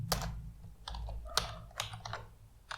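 Code being typed on a computer keyboard: irregular clusters of close, quiet key clicks with brief pauses between bursts.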